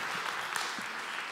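Audience at a motivational talk clapping briefly, a soft, fairly quiet patter of hands with a few distinct claps standing out.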